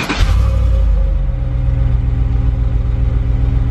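A car engine idles with its muffler and resonator cut off, opening with a short startup burst and settling into a steady, close, deep low rumble with a rough pulsing beat.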